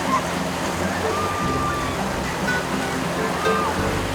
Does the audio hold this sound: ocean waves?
yes